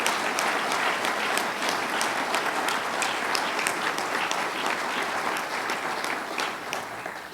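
An audience at a state university gathering in Utica applauds steadily for honored guests, a dense wash of clapping at moderate distance with a few sharper individual claps standing out, no one speaking.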